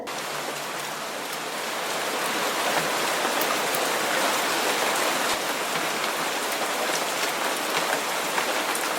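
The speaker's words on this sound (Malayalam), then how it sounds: "ഇന്നിവിടെ നമ്മൾ വിഷ്വൽസ് എടുത്തുകൊണ്ടിരുന്നപ്പോൾ നല്ല മഴയൊക്കെ ആയിരുന്നു" Heavy rain pours steadily over a residential villa site in Kakkanad, a dense, continuous hiss of drops striking surfaces that holds at an even loudness throughout, with no voices.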